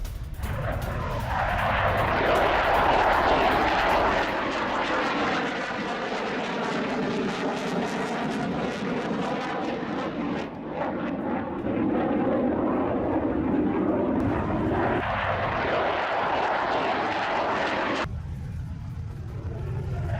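Fighter jet flying over northern Israel, a loud sustained roar of jet engine noise with shifting rumble, continuous and close throughout, cut off abruptly near the end.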